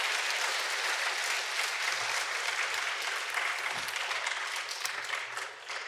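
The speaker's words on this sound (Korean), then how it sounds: "우리 성가대원들을 위해서 우리 감사와 또 격려의 박수 한번 드리겠습니다" Congregation applauding a church choir at a Sunday service, a dense, steady wash of clapping that fills the hall and tapers slightly at the end.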